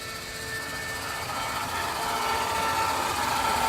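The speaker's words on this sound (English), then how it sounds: "Sounds like we have hydraulics." A powered-up Okuma CNC machine's hydraulics run with a steady, dense whirring hum that builds slightly in loudness over a few seconds, alone without speech.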